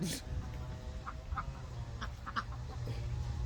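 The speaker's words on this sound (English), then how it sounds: "that crazy mob of ducks, those mallards" Several short mallard duck quacks from a large flock sound in quick scattered bursts over a low rumbling background, fairly close but not loud.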